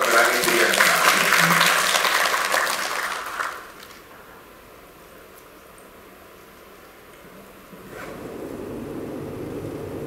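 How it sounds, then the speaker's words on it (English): Audience applause in a conference hall for Professor Melani Budianta at an expert session on international publication, a loud dense burst of clapping that runs about three and a half seconds and then drops away to quiet room tone. "please give your warm applause for Professor Melani Budianta"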